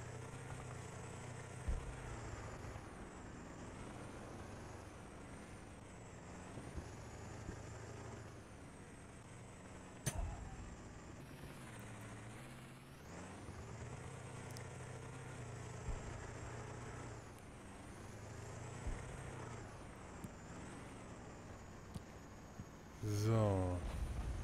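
A vehicle driven along a road in United Assault Normandy 44, a continuous engine drone rising and falling as it moves, with occasional bumps and a sharper clatter near the end.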